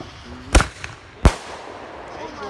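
Fireworks go off with two sharp, loud bangs about a second apart, followed by fainter crackle and ambient noise.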